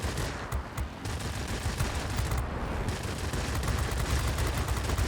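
Rapid, continuous gunfire from the cannons of an S-199 Sakeen fighter in World of Warplanes, a dense rattling burst sustained for several seconds at steady volume.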